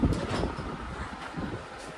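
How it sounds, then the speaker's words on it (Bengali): A train pulling into a railway station, a steady low rumble and rolling clatter with broad noise throughout, fairly close and continuous over a short stretch. "ওই যে ট্রেন ঢুকে গেছে"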